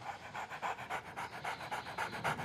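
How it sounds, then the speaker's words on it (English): A bulldog in a TV show pants in quick, regular rhythmic breaths, fairly soft and close, with no talking over it. "Just says bulldog panting."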